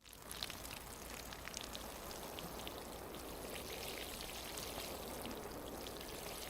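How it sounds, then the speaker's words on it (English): A watering can pouring water, a VR game sound effect, as a steady, dense trickle and splatter like rain on a surface, continuing without pause and fairly faint throughout. "Then we have a watering can."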